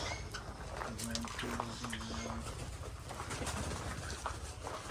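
A red knob imperial pigeon gives a few low, soft coos under people talking nearby, with rustling background noise.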